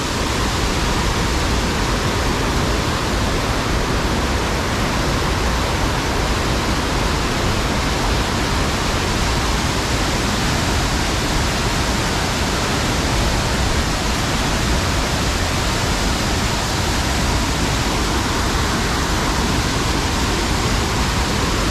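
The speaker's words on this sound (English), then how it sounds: "Just gonna let you listen to the waterfall for a while." Waterfall at Cummins Falls State Park in Tennessee, a loud constant rushing roar of falling water that holds steady and unbroken throughout, with no voices.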